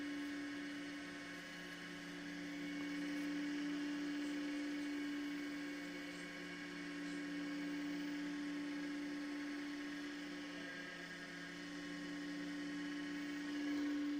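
Steady high-pitched mechanical whir of a spinning lathe with sandpaper hissing against a diamond painting pen blank, continuous and even throughout, no talking.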